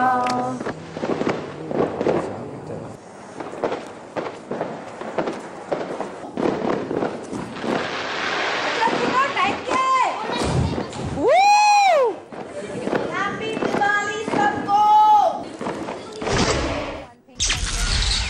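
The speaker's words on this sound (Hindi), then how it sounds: "बिग बॉस ने हल्की फुल्की आतिशबाजी का इंतजाम भी किया" Light Diwali fireworks go off at night at the Bigg Boss house, with a dense, continuous run of crackling pops and bangs and several whistling rockets rising and falling, close and loud throughout.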